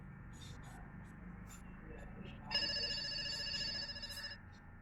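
A smartphone ringing with an incoming call during a fitness wrist band alert test, a bright electronic ringtone starting midway after quiet handling noises and lasting nearly two seconds.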